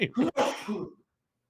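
A single sharp sneeze, close and fairly loud, fading quickly into silence.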